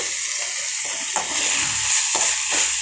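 Food sizzles in a pan as it is sautéed with turmeric and chili powder, a steady bright frying hiss broken by a few sharp scraping stirs of a utensil against the pan.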